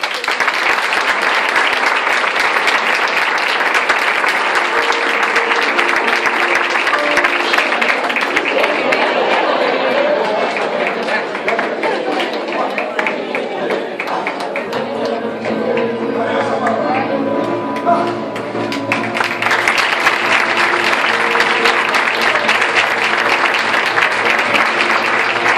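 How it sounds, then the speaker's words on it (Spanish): Sustained applause from an audience at an outdoor tribute honoring senior citizens in Barrial de Gáldar, loud and dense throughout with crowd chatter and a voice mixed in. "Un fuerte aplauso para él."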